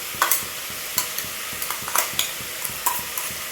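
Ground green chili with garlic and ginger goes into onions sautéing for a beef biryani, with an even sizzle under a regular rhythm of spoon scrapes and taps against the pan.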